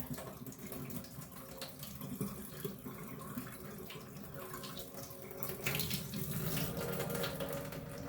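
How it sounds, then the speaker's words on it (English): Water drains from a pot of boiled potatoes into a sink, a steady loud rushing pour that swells toward the end. "and I'll drain the water again."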